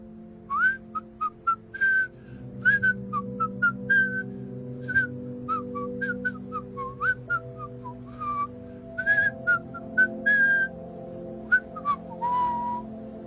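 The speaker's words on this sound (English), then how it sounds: "she was lazily staring at the ceiling and whistling a cheerful tune." Someone whistles a bright, bouncy melody in short, clear notes over a soft musical backing, steady and cheerful throughout.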